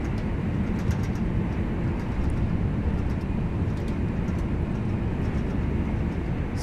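Steady low rumble and rattling of a BR Class 323 electric train on the Glossop Line in Train Sim World 3, clattering through curves as a continuous dense roar with faint metallic ticks above it, no speech.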